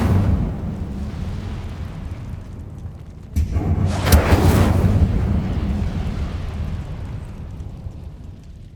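An Incendio fire spell cast in Hogwarts Legacy inside abandoned Azkaban: a steady low rumble breaks at once into a loud, rushing burst of flame that swells for about two seconds, then settles back into a sustained roar.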